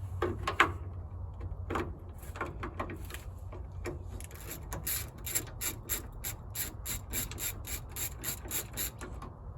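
A ratchet works to break loose 14mm subframe bolts, a close run of rapid clicking strokes that starts out irregular and settles into a quick steady rhythm, with metallic rubbing and a low background hum.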